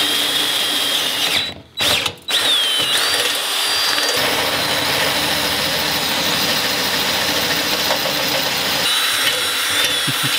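Drilling on a truck while prepping to mount a light bar and pods: a loud, continuous whirring power-tool drone runs through, with a brief dip and a couple of short breaks early on.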